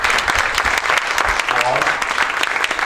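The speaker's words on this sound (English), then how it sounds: "Let's give them one more applause." Audience applause at an education summit after a student panel, dense continuous clapping close by with a few louder individual claps and a brief voice murmuring underneath.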